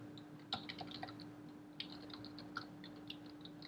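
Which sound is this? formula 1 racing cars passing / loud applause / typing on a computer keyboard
typing on a computer keyboard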